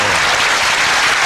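Steady, full applause from a large crowd at a 1995 world 8-ball pool championship, clapping for Efren Reyes, dense and sustained throughout.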